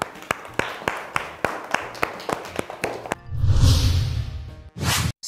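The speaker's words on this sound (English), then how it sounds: "Good job, clap." A class of students claps in a steady, even rhythm of about a dozen sharp claps, followed by a burst of louder noise and a few brief thumps at the end.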